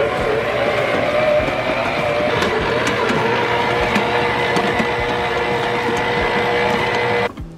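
A Cusimax stand mixer with its dough hook attachment runs with a steady loud motor whir and mechanical hum for several seconds, then abruptly cuts off.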